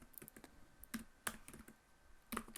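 Computer keyboard typing, close and quiet, in short irregular bursts of crisp key clicks separated by brief pauses.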